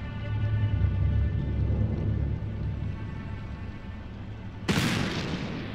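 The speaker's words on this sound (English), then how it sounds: "Whoa! What was that? Sounded like a gunshot." A sudden loud bang like a gunshot cuts through a low steady ambient hum in the Black Mirror 3 video game, a single sharp crack near the end with a short decaying tail.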